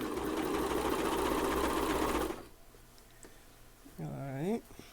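A coverstitch sewing machine stitches a neckband with a loud, fast, steady whirring run that stops abruptly, leaving quiet clicks before a person speaks briefly.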